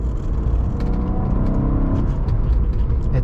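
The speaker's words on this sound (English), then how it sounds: "but the motor exhaust note" A 2006 Maserati Quattroporte M139 engine and exhaust drone steadily from close by while driving, a continuous throaty rumble with no talking.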